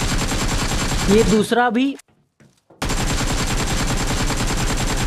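Rapid AKM automatic fire in the mobile game BGMI, a loud sustained rattle that cuts to silence for under a second before resuming; someone speaks briefly over the gunfire.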